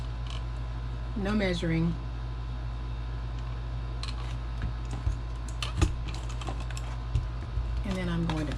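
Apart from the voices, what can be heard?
hole punch (1/8 inch) punching holes in a craft bag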